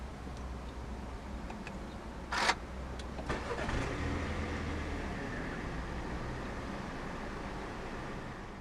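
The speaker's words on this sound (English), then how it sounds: "So to start, make sure the key fob is inside the car, put your foot on the brake, and press the toggle switch located on the dashboard." A 2017 MINI Cooper S Countryman starts by push button. Faint clicks come first, then the engine cranks and catches and settles into a low steady idle, heard from inside the car.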